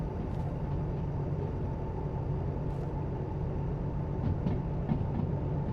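Freight train crossing a viaduct in the Derail Valley train game, a steady, close rumble of rolling wheels and wagons with faint clanks and squeaks over the top.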